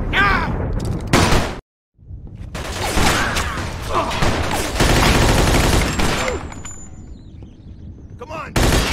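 Gunfire in the Mafia 2 video game: dense, loud bursts of rapid shots fill most of the stretch, broken by a brief silent gap, with a final volley at the end.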